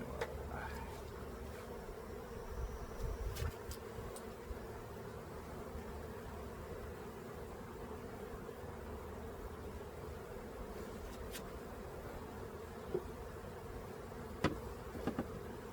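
Bees in a hive infested with small hive beetles give off a steady, low, continuous hum throughout. The buzzing is moderately close, with a few faint clicks and knocks toward the end.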